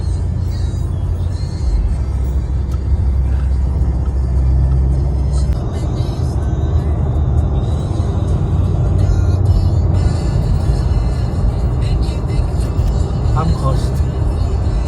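A car cruises on the I-95 expressway toward St. Augustine, Florida, with a steady low road and engine rumble heard from inside, while people chat over it.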